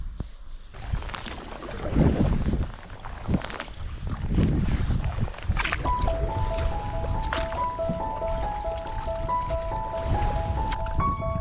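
Canoe paddle strokes splash and squish through the water of Loch Shiel, Scotland, at a steady pace in rainy weather, with wind buffeting the microphone and a faint tonal whine in the background.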